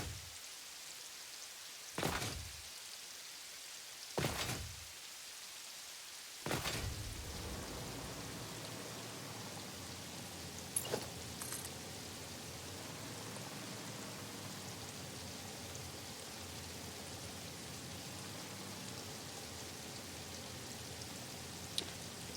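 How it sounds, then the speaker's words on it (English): Steady hiss of rain falling in a video game, a soft continuous wash that sets in after a few sharp thumps early on and carries on evenly, fairly quiet, with no voices over it. "Oh, and it's raining, so I can't see what's what."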